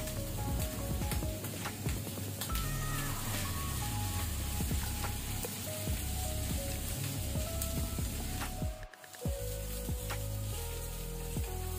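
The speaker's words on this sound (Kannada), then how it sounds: "ಅದು ಪಿಂಕ್ ಗುಲಾಬಿ ಬಣ್ಣ ಬರುವ ತನಕ ನಾವು ಫ್ರೈ ಮಾಡ್ಕೊಳ್ಳುವ" Sliced onions sizzle steadily in a hot pan while frying until pink for an egg masala, a continuous crackling hiss with a brief clatter near the end.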